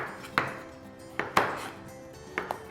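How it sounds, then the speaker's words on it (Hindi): Peeled lauki (bottle gourd) cut into big chunks with a knife, three or four crisp chops against a board at uneven intervals, close and clear with no talk. "बड़े बड़े चंक्स में हम काटेंगे"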